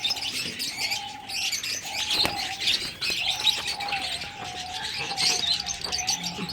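A young pet pigeon chick gives repeated short, thin calls at close range over a faint background of other chirping.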